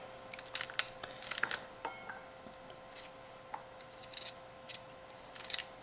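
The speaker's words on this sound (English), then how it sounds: "that's a neat way to cut celery" Kitchen scissors snip through celery stalks in short crisp crunching clusters, repeated at irregular intervals and heard close up over a faint steady hum.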